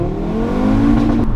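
An Audi RS3 launching under launch control, its engine note rising steadily and loudly as the car accelerates hard.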